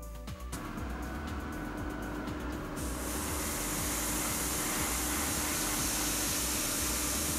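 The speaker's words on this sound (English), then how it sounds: "Here yellow is sprayed, followed by a flesh colour for the hands and face" Yellow paint spray from a spray gun or aerosol, a steady loud hiss of broadband noise running continuously throughout with no talk over it.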